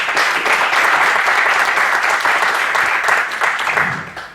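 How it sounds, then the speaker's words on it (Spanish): A hall audience at a ceremony commemorating the 200th anniversary of the Constitution of Apatzingán applauds a guest, loud sustained clapping from many hands that holds steady for about four seconds before starting to fade. "el doctor Luis Ignacio Sáenz Chávez, a quien les pido que le ofrezcamos un fuerte aplauso."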